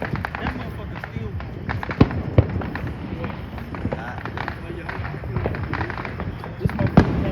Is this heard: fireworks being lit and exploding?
yes